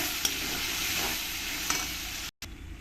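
Onions frying in a pan for chicken bhuna, a continuous close sizzle with stirring scrapes, cut by a brief silent gap near the end.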